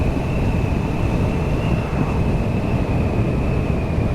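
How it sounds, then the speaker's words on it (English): Steady, loud roar of wind buffeting a rider on a CF Moto 650 NK naked motorcycle with no wind protection, a constant broadband rush with a faint engine whine beneath it and no talking. "I'm obviously getting buffeted by the oncoming airflow"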